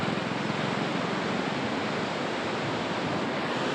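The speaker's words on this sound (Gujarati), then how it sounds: "બીક લાગે એવું પાણી છે." Heavy water pours through the gates of the Shetrunji dam, a steady, loud, broadband roar that stays close and unbroken throughout, with no voices over it.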